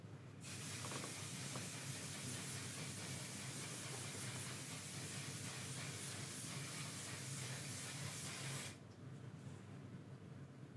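Aerosol setting spray misted onto a face, one steady hissing burst of about eight seconds, close and loud, then cut off to quiet, with no talk.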